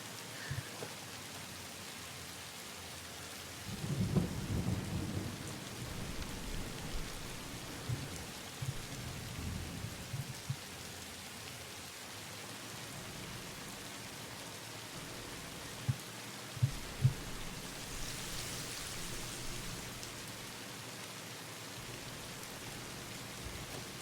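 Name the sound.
thunderstorm with thunder and rain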